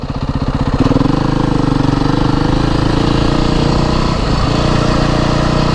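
A motorcycle engine runs at a steady idle, a loud, close, even rumbling throb that holds constant throughout with no voices over it.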